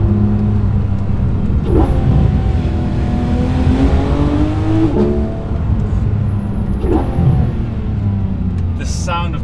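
A Porsche 991.2 GT3 RS engine revs while driving, its tone rising and falling steadily and loud inside the car, with a voice speaking over part of it.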